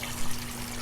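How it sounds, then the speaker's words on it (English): Water flows through an aquaponics system with a plant cutting, a brief, dense rushing trickle heard close and steady, with no voices. "water's always flowing through this at the same rate"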